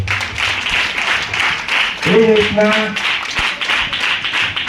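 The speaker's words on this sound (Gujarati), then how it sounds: "જોરદાર તાળી પાડી દે." An audience at a school annual day and Class 8 farewell function applauds with steady, dense clapping that runs throughout, and a voice briefly speaks over it midway.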